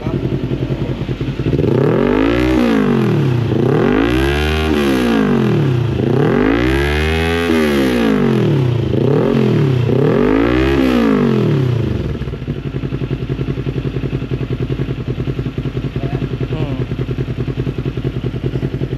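A Kawasaki Ninja Z400 fitted with an Akrapovic exhaust revs up and down five times in close succession, loud and near, each sweep rising and falling before dropping back to a steady idle.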